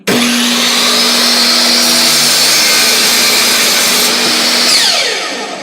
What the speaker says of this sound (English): I'll cut those using my miter saw